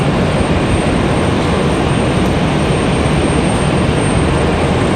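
A Boeing 737-800 jet airliner at Raleigh-Durham airport, heard as a loud, unbroken broadband rush of engine noise that stays level throughout, with no voices.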